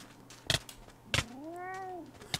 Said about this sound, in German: Die arme Katze, ey.